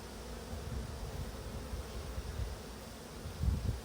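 Honey bees in a hive buzz in a dense, steady drone at close range, with a faint rustle and a slightly louder swell near the end.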